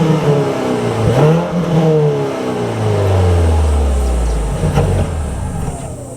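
Mazda CX-70 with a 2.5-liter four-cylinder and dual exhaust revs hard, the engine note sweeping up, dropping, then climbing again in a long loud rev, heard up close with no talking.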